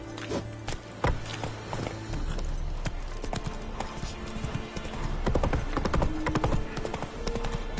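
Horse hooves clip-clop steadily in a video game, close and continuous, with a whinny and background game sounds around them.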